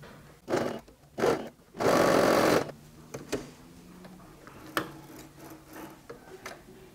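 Sewing machine stitching bias binding onto fabric, two short bursts followed by a longer steady run of rapid stitching, close and loud, then quiet clicks and handling.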